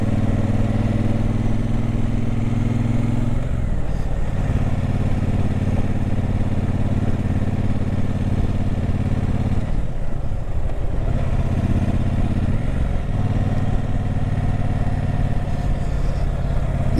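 A Triumph Speedmaster 1200 motorcycle rides through hills, its engine a loud, steady close-up drone with low throbbing, briefly dipping and shifting pitch around gear changes before settling back into a constant roar; no talking.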